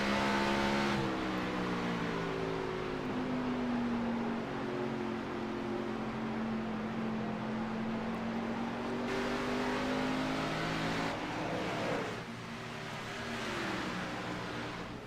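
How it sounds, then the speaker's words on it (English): Xfinity race car at New Hampshire Motor Speedway, its engine heard from an onboard roof view as the driver works the throttle off a corner, a loud sustained tone that sags, climbs and wavers, then briefly eases and picks back up. "You can hear him working the throttle coming off the corner."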